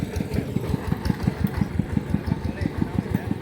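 A tractor engine runs close by with a steady, rapid low thumping rhythm, loud and continuous throughout.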